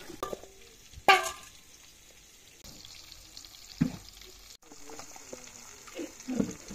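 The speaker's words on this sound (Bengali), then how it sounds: "এইভাবে আমটা আর গুড়টা নেড়ে নিতে হবে সমানে" Mango pickle pieces and jaggery stirred in a pan over heat, with soft scraping and stirring strokes over a faint sizzle, plus a couple of sharper knocks of the spoon against the pan.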